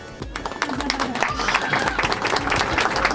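Applause from an audience at a community gathering marking a branch opening, dense continuous clapping and crowd noise throughout, fairly loud and close.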